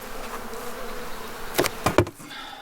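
Honey bees buzz around beehives in a steady low drone, with a few louder close passes near the end.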